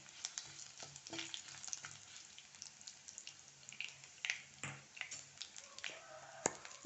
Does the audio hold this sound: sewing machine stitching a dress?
no